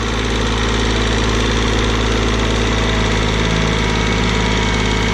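A farm engine running hard during a jump start, with a Kubota B1550 tractor and a John Deere combine involved: a loud, close, steady idle with a rough knocking pulse throughout, no voices.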